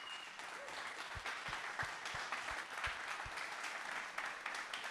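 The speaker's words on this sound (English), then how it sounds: "So I'm going to ask for a round of applause for Luke" An audience claps after a Bitcoin conference talk, with steady, moderately distant applause that carries throughout, scattered with a few sharper individual claps.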